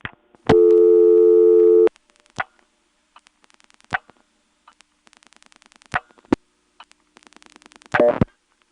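An XY step telephone exchange reaches a vacant level, giving a steady tone burst followed by scattered relay clicks and clunks of the switching gear, close and clear with no voices.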